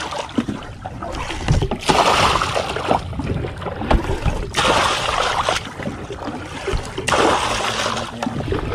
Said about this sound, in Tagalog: Bro, lalagyan na natin ng tubig itong ating bangka.